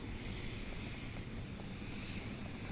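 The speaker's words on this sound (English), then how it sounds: "the sounds you hear in the background are from a recording in order to add airplane ambiance" Recorded airplane ambiance at Seoul Incheon Airport gives a steady, unbroken jet roar that stays faint and even in the background, with no voices.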